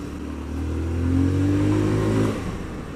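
A KTM Duke motorcycle with an aftermarket exhaust revs up in a single rising, sustained engine note that swells and then eases off, close by and without talk.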